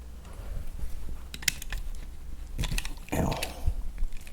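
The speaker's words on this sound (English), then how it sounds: "So let's go ahead and take these screws out." Small screws are backed out of a fixed-blade OTF knife with a small driver, producing close, sparse metallic clicks and scraping handling noises, with a brief louder rattle near the end.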